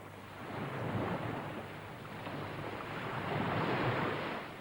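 Sea waves roll and wash ashore in a broad, rushing surf that swells, eases slightly and builds again to a louder crest near the end, with wind-like noise and no talking.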